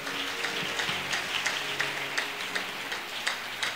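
A church congregation applauds together, a steady dense patter of many hands clapping continuously with irregular louder bursts, no voices standing out.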